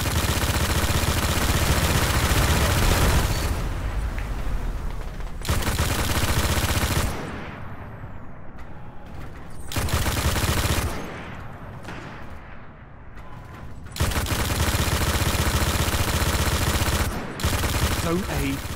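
Continuous weapon fire in Destiny's Crucible multiplayer, loud sustained bursts that cut off sharply and restart several times, separated by quieter gaps, close in the foreground.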